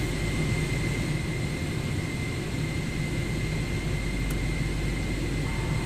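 Airliner engines idle after start in Microsoft Flight Simulator 2024, a steady even jet whine and roar with a constant hiss, continuous and unchanging, with no talking.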